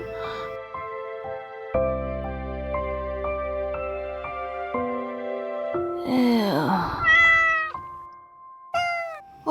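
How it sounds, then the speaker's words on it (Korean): A black cat gives a few clear, close meows in an animated scene, coming in after a stretch of gentle music and rising and falling in pitch. "검은 고양이 못 봤소?"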